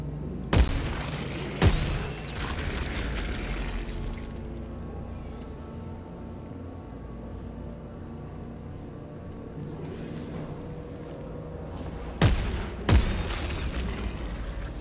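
A monster bursting apart in Dead Space 3: two sharp booms near the start and two more near the end, set against a steady low rumble of game ambience.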